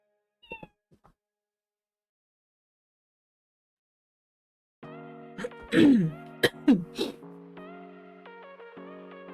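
A person imitates cat meows with a few short sounds early on, then a run of rising and falling meow-like cries. They sit over steady sustained tones in the background.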